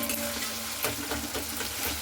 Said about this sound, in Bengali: আর এইভাবে আমি মশলাটা কিন্তু খুব সুন্দর করে কষে নেব